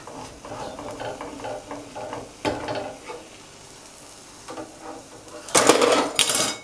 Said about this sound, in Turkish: Şu paletimiz yardımıyla altından kaldırıyoruz